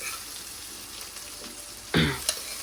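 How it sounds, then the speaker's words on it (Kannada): Vegetables and rice frying in a pan for homemade gobi fried rice, a steady soft sizzle with a louder burst of hiss and scraping as ingredients are stirred or added near the end. "ವೆಜಿಟೇಬಲ್ಸ್ ಎಲ್ಲ ಈಗ ಫ್ರೈ ಆಗೈತೆ"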